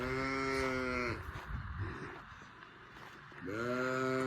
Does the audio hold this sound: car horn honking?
no